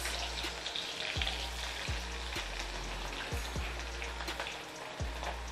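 Chopped onion sizzles steadily in hot oil in a pan for plantain and pepper sauce, a close, continuous crackle with a few low knocks, no talk.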